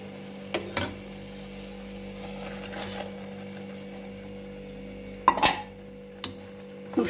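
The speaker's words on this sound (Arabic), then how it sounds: "ونخليها تتقلى تا هي مع البصل و طوماطيش" Osbana, a stuffed tripe sausage, frying in a pan with onion and tomato: a soft, steady sizzle with a low hum, broken by a few sharp clinks and scrapes of a utensil against the pan.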